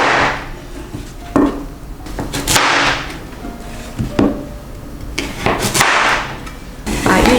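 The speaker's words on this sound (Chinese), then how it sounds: "把芋头切成4等份" Peeled taro being cut into quarters with a knife on a board, giving several sharp chopping knocks spread through a quiet kitchen.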